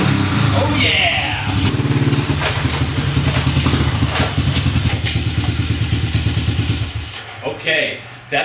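A big bore Honda CT90 engine runs loud and close with a steady, fast putter that drops away near the end, while a voice is heard over it.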